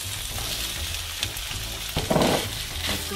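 Minced meat and onions fry in oil in a pan, giving a steady close sizzle with a brief louder burst of crackling near the end, and no talking.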